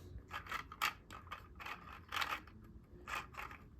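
3D printed gears turned by a stepper motor gear, making a quiet run of rapid, evenly spaced clicking, ratcheting bursts close by.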